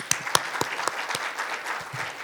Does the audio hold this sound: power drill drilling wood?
no